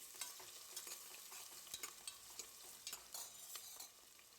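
Sliced onions fry in a pan, a soft continuous sizzle broken by frequent light scraping and stirring clicks from a utensil, fairly faint and close with no voices.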